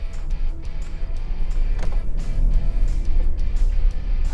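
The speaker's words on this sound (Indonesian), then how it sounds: "Halus banget suara dieselnya." A 2023 Toyota Land Cruiser GR diesel engine runs smoothly with a steady, close, low rumble and a light mechanical hum throughout.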